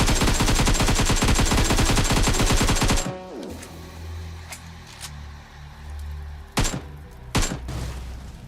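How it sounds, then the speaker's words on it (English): An AKM rifle in PUBG fires a long, loud continuous burst at a UAZ vehicle, then stops abruptly; quieter thuds and a couple of sharp impacts follow over a low background hum. "I tried to burst a UAZ using these two guns"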